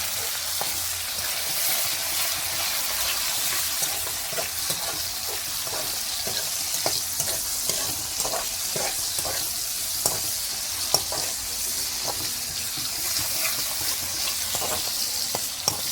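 Cabbage with moong dal, garlic and tomato fries in a pan with a constant, fairly loud sizzle, broken by repeated scraping strokes of a spatula in a loose rhythm. No one speaks.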